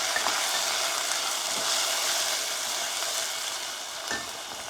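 A methi (fenugreek) mixture being stirred in a pan: a continuous soft sizzle-like hiss with a couple of faint scraping strokes, close and steady.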